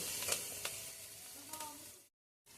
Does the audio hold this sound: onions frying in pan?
yes